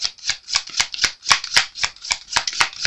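Tarot cards are shuffled close up in a quick series of crisp riffling bursts, about a dozen sharp slaps and flutters in steady rhythm, with no talking.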